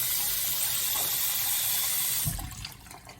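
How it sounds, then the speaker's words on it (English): Cold tap water runs steadily over blanched snow peas in a kitchen sink, a loud, continuous splashing rush that cuts off near the end, leaving faint drips and clatter. "rinse it in a cold water. That is the way to blanch it."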